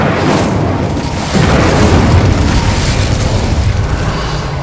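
Incendio fire spell cast in the Hogwarts Legacy video game, a loud, dense roaring blast of deep rumbling flame that holds strong for the whole span and swells slightly partway in.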